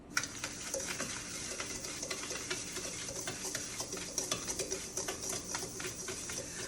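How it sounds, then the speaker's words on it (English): Butter and sugar are whisked by hand for a chocolate fudge cake, giving a fast, steady run of close, light ticking and scraping strokes against the bowl over a constant soft hiss. "we're going to whisk up our cream, our eggs, not eggs, silly, our butter and sugar"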